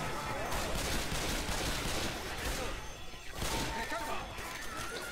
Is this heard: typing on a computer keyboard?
no